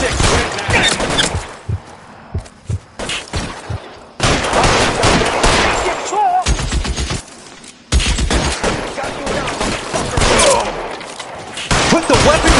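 Gunfire in the video game L.A. Noire comes in loud, repeated bursts of shots separated by short lulls, with shouting voices mixed in among the volleys.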